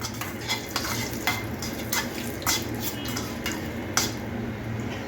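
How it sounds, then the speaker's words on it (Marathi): Asafoetida sizzles on low flame in a pan, with a soft steady fry broken by repeated sharp scrapes and clinks of a spoon stirring against the metal. "हिंग पण आपण छानपैकी परतून घेऊया."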